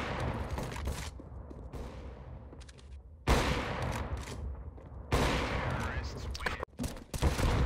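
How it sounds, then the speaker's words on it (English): Players trade fire in a CS:GO round: loud volleys of shots and rattling bursts come in clusters, with short lulls between them, while voices talk over the action. "Why are they shooting each other?"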